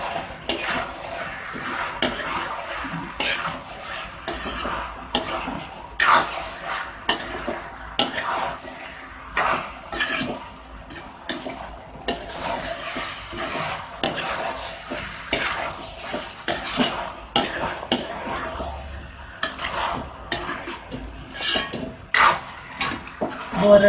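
Chicken Manchurian is stirred steadily in a pan over a high flame, with continuous sizzling, frequent scraping and clinking of the spoon against the pan, and faint talk in the background.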